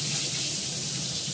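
Steady, dense hiss of potatoes sizzling as they fry in a little oil, close and continuous without pauses or talking.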